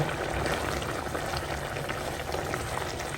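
Cauliflower gravy bubbles and pops steadily in a pot up close, a continuous burbling simmer with no voices.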